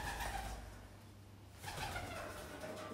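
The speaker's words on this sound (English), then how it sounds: "pigeons, loads of pigeons" Pigeons cooing inside the abandoned Pyestock jet engine testing facility, two soft murmuring coos under steady ambient rumble in a reverberant space.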